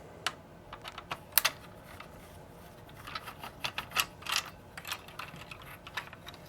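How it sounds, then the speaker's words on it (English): Small plastic clicks and taps from work on a Sony PS1's eject button plate come in scattered bursts, close and fairly quiet, with irregular rhythm and no talking. "So we'll just get the plate off that has the spring and the plunger."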